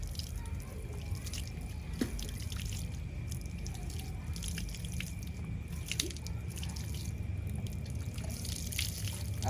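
Warm water splashes and drips while a child is washed, a faint, quiet trickle with a few sparse, distinct drips over a low background hiss.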